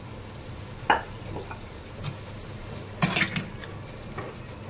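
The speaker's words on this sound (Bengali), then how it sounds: "এই যে সেদ্ধ করে রাখা মটর এবার এর মধ্যে দিয়ে দিচ্ছি।" Boiled yellow peas tumble into hot mutton fat and potatoes in a wok, bringing brief clattering thuds and a steady low sizzle as the mixture is stirred.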